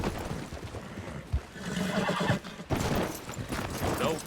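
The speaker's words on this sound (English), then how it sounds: "Them gunshots scared my horse." A horse spooked by gunshots whinnies loudly and close, with a few hoof clops and rustling around it; no one speaks.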